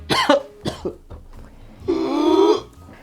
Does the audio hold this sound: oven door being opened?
no